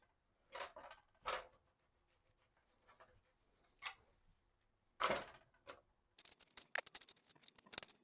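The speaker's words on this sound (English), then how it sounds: "Now to cut 3 pounds of chicken." A knife slices through about three pounds of raw chicken breast, halved and diced, in scattered soft cuts and board taps, then a rapid run of sharp chopping knocks near the end, with no talking.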